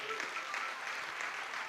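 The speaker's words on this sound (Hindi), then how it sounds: "जरा एक बार तालियां बजा दीजिएगा।" Audience at a large Hindi poetry gathering in a school hall claps for a magazine release, a short steady run of applause that sounds fairly faint and distant.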